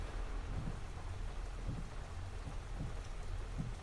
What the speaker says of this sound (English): And this rain is really starting to pick up.